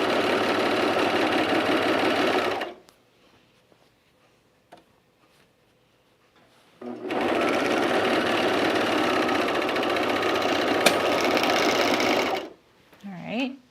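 Overlock serger running on blouse seams in two long bursts of fast, buzzing mechanical stitching close by, separated by a quiet pause, with a brief voice at the very end.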